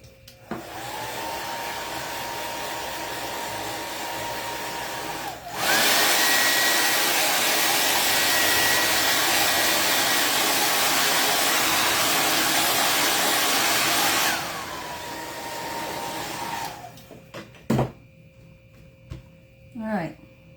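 Hair dryer blowing steadily at close range to dry a chalk paste stencil on a craft sign, switching on with a loud whoosh, running for several seconds, then dropping back to a quieter hum before cutting off.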